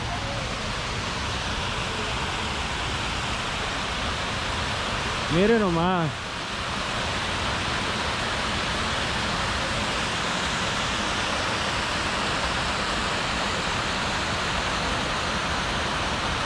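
A waterfall at Frederik Meijer Gardens pours in a constant, loud, broadband rush throughout, with a brief spoken remark over it partway through.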